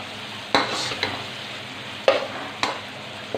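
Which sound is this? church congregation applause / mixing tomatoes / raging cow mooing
mixing tomatoes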